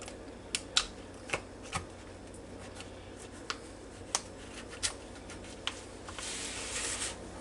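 A knife cuts through triple chocolate brownies in a round pan, producing a sparse series of soft, sharp taps against the pan at close range, followed by a brief rustling hiss at the end, with no talk.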